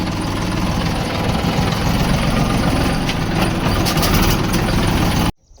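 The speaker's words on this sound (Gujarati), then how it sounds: "ટ્રેક્ટર સીધો ઊભો રાખી દીધો છે" A tractor engine idling nearby, a steady low chugging rumble with rhythmic knocking, cutting off abruptly near the end.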